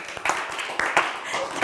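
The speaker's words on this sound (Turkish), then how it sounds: "Üzgün alkışa bak ya" Weak, scattered applause from a Turkish word game show studio audience, a few short bursts of clapping rising and fading over about two seconds.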